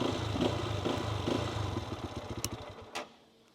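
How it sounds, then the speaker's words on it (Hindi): A Lifan KPT 200 motorcycle engine idles with a low, throbbing exhaust burble, a few sharp clacks near the end before it fades quieter. "अब एग्जॉस्ट की बात करें तो इसका साउंड नोट इतना मज़े का है"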